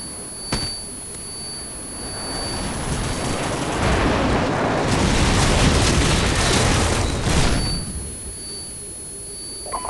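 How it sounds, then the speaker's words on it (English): Airstrike explosions in a multiplayer match on the Crossfire map build into a long, roaring wash of heavy booms and rumble, swelling loud in the middle and fading away, with a faint steady electronic tone behind. "Friendly airstrike on the way!"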